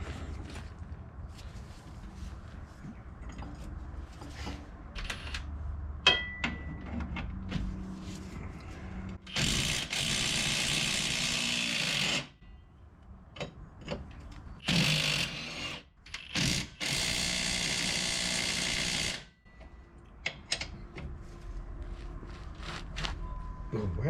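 An impact wrench rattles in loud bursts while removing strut bolts from a Subaru Forester XT with blown self-levelling struts, separated by quieter workshop clatter.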